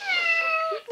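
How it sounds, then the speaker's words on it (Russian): A cat gives one clear, drawn-out meow with a falling tone, close and alone, ending in a short rising chirp, as part of a children's alphabet game. "Ой, котик, как я люблю котиков."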